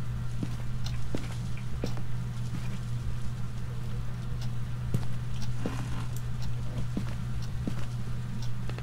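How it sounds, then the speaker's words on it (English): Rain patters steadily against windows in the Phasmophobia horror game, a dense continuous wash with scattered faint ticks and a low steady hum beneath. "That rain on the windows is just doing me."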